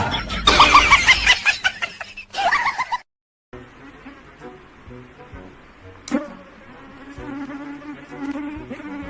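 A mosquito buzzes loudly and close in high, whining bursts during the first few seconds, then cuts to silence before fainter buzzing and rustling continue at a lower level.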